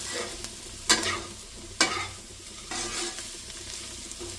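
Potatoes and dried fenugreek are stirred in a pan over low heat, a steady soft sizzle broken by a few scraping strokes of the spoon, close and fairly quiet with no talk.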